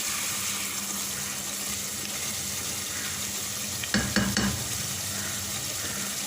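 Biryani masala with half a teaspoon of garam masala powder cooking in a pot, a low steady sizzle with a short burst of stirring and scraping partway through, close up with no talking.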